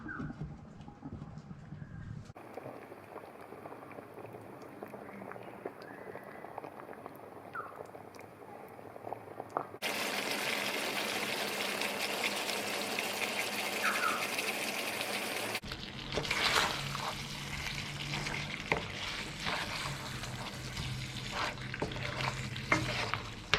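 Rajasthani laal maas, a spicy red mutton curry, simmers in a lidded pot with a steady bubbling sizzle, close and moderately loud across several cut-together stretches, with no voices.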